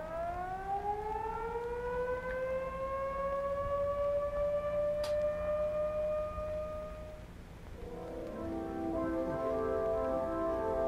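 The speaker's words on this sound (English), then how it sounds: "Here's what your alert signal will sound like." Civil defense siren sounding a steady alert signal, a loud sustained wail holding pitch for about seven seconds before dipping and resuming with a wavering, overlapping tone; no talking.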